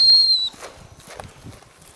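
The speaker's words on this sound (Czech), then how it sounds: "Pískni ještě, ať nepozbudí" One sharp, high whistle lasts about half a second, blown by a person calling a dog during handling practice. Quiet rustling and faint movement follow.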